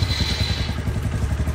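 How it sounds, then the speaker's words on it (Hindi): A superbike engine runs steadily at close range, a loud pulsing low rumble with a brief high whine at the start and no talking. "सो गाइस अभी आप सुपर बाइक की साउंड सुनो"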